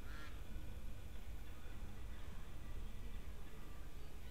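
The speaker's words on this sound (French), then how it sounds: "on voit, là, il y a les canards." Ducks quacking on a farm in Farm Expert 2016 video game, a few quick nasal quacks near the start over a constant broad outdoor ambience that fills the rest of the clip.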